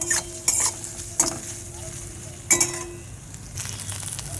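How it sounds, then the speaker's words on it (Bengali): Chicken fries in oil in a home kadai for egg chicken pasta, giving a soft, constant sizzle broken by several sharp spatula scrapes and clinks against the pan. "যেমন ডিমটা ভাজা করলাম সেরকমই আমি চিকেনটাও এরকমই ভাজাই করে নেব"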